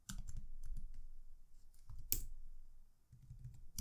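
Quick bursts of typing on a computer keyboard, close and fairly quiet clicks in short runs with a brief pause in between.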